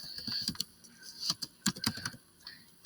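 Typing on a computer keyboard set to an Australian layout while writing a C function, with a run of irregular clicky keystrokes that speed up in bursts and then pause, close and fairly clear.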